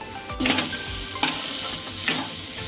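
Prawn paste for a spicy prawn bharta is stirred and fried in a wok, giving a continuous close sizzle broken by three distinct scraping sweeps of the spatula across the metal.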